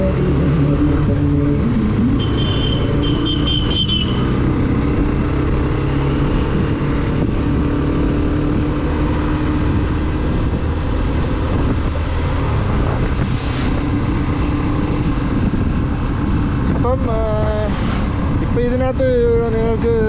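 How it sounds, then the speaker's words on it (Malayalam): A Hero Xtreme 125R motorcycle runs at a steady, unstressed pace, its engine and exhaust drone blending with loud wind rush while riding, with brief voices and tonal sounds appearing near the end. "സാധാരണ എൻജിൻ അത്ര സ്ട്രെസ് ഇല്ലാത്തൊരു സൗണ്ടാണ് ഇപ്പോൾ കേൾക്കുന്നത്"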